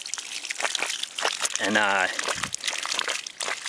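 Fresh cold water gushes and sloshes through a 50-foot hose outdoors in Groton, Vermont, a steady rushing splash with a person talking over it.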